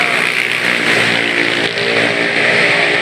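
A Yamaha Mio scooter-type motorcycle engine revs steadily and loudly in a parked setting at a car repair shop, a continuous buzzing drone with a slight dip in the middle before climbing again.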